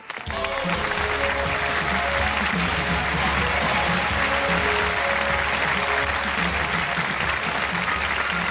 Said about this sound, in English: a nice round of applause for my laboratory assistant, Nikki Terminator